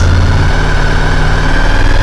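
A motorbike engine runs steadily with the choke fully off, a loud close idle-like hum with a slight rise in pitch partway through.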